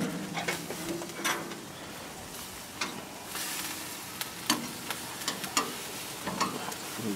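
Al pastor pork sears in a hot pan with a quiet, continuous sizzle, punctuated by occasional sharp clicks and taps of a utensil moving the meat.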